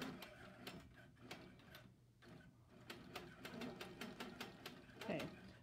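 A quilting machine stitches in the ditch along a ruler, a faint, quick ticking of needle strokes in short runs with brief gaps.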